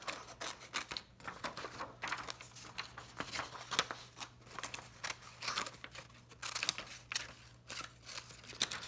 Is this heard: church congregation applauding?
no